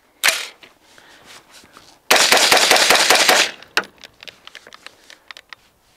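An AR rifle firing its last magazine outdoors, with a sharp single shot, a dense rapid burst of fire lasting over a second, then scattered quieter clicks and clatter, loud and close.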